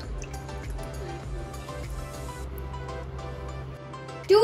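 Milk is poured into a container for a cheese sauce, a soft liquid trickle and gurgle running steadily for a few seconds at close range, ending with a brief louder clunk.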